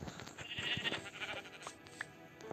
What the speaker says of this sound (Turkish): Koyun arkadaşlar çok şanslıyız çünkü bir tane koyun bulduk.